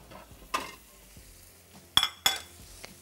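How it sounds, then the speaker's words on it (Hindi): Chicken frying in a pan, a quiet background sizzle punctuated by a few sharp scrapes and knocks of a utensil stirring the pieces. "यहाँ पे चिकन बहुत अच्छी तरीके से हमने इसको फ्राई कर लेना है।"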